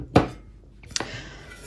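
Kukmara frying pans being handled, two sharp metallic knocks of cookware set down or bumped, separated by a brief quiet gap, close and fairly loud.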